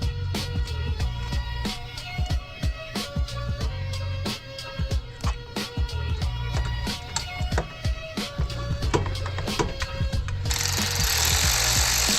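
Wrench ratcheting and metal tapping while tightening the fittings on a Quick Vent oil catch can install in a car engine bay, a dense run of sharp clicks and knocks over a steady low hum, ending in a broad hiss.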